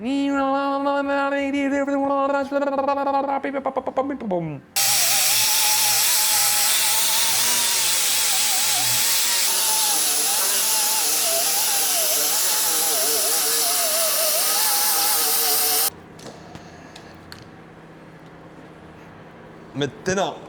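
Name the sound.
grinder grinding metal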